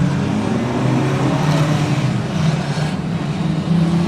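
A pack of stock cars accelerating together off the green flag at Oceanview, a loud, dense engine roar that builds and holds steady throughout.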